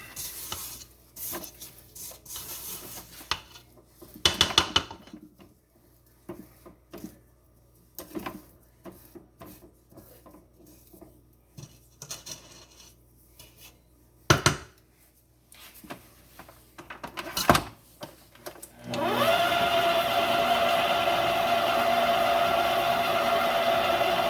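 Electric mixer beating butter and sugar for cake batter, a steady loud whirring drone starting partway through after a stretch of scattered clinks and scraping sounds.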